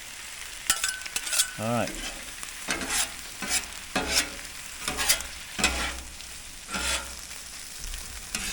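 Spinach sizzles on an oiled flat rock griddle, a soft continuous frying hiss broken by scraping and stirring strokes, with someone briefly speaking nearby.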